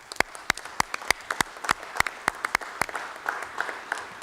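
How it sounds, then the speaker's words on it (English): Audience applause at a full council meeting: scattered, sharp individual claps from a small group, spaced unevenly and fairly close, with no voices over them. "give a round of applause to all those people I mentioned early on in this speech"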